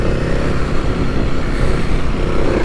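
A Kawasaki KLX300 dirt bike revs in low gear on a sandy motocross track. The engine gives a loud, continuous, gritty drone that swells slightly as the throttle changes.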